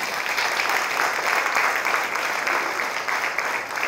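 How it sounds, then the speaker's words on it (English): A congregation at a Holy Week recollection claps for the Lord, a steady, dense round of applause from many hands that holds evenly for its whole length with no voices above it. "let's give the Lord a round of clap offerings."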